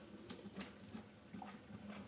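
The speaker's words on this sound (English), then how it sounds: "Boiled water is coming already" Boiling water runs from a Quooker PRO 3 Flex tap into a sink, a steady, soft hiss and gurgle of flowing water throughout, fairly quiet and close.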